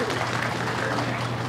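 Audience applause at a yosakoi dance performance during a spring festival, a dense, continuous patter of clapping from a crowd lasting a brief moment.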